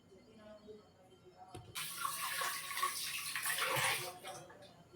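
Soaked dal lentils rinsed under a running tap in a home kitchen. After a quiet start with a faint voice, a steady rush of water begins and continues, swirling and splashing nearby to the end.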